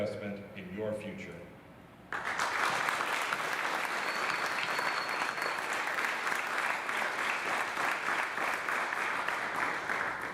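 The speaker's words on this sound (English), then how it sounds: "Seniors, please share your appreciation of tonight's presenters by providing them with a round of applause" Graduating seniors at a scholarship ceremony break into a round of applause after a spoken introduction. Dense clapping starts abruptly and carries on steadily at full volume for several seconds.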